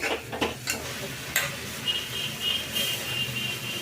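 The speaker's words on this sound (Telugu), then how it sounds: "ఇప్పుడు అయితే కొంచెము ఫ్రై అయ్యింది చూడండి" Leafy greens fry with moong dal in a pan, giving a soft sizzle under close stirring and scraping. A few sharp metallic ticks from a utensil sound against the pan, and nobody speaks.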